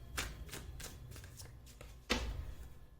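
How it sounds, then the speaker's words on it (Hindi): Tarot cards shuffled by hand for a card reading, a run of close, papery riffles in a steady rhythm followed by a louder final shuffle burst, with no talking. "मैं कार्ड्स आपके सामने ही शफल करूंगी और फिर हम देखेंगे।"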